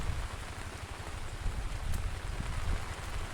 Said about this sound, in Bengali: ডালা পরে আবার বৃষ্টি।